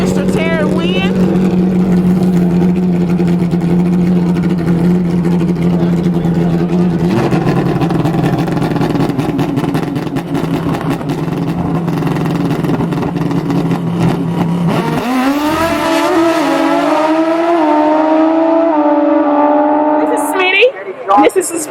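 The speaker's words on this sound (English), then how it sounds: "This is his pro modified bike." A pro modified drag racing motorcycle engine idling loud and close with a steady throbbing drone, then revving up into a higher, rising snarl near the end while someone talks over it.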